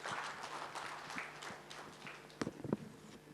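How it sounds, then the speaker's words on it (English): Faint, distant applause rises from a conference audience and fades out, followed by a few louder knocks and thumps close by. "A very big round of applause again to Chandrasekhar"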